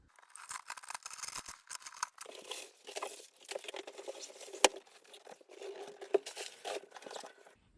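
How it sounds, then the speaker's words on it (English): A cardboard box holding a Mackie Onyx 16 mixer is opened and its paper packing pulled out: close, busy crumpling, tearing and scratchy rustling that comes in uneven bursts, with a couple of sharp knocks. "I'm going to open the box and show you what's inside"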